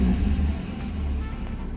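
A BMW E36 325i coupé engine idling just after starting, a low, steady rumble close by that stays even for a moment.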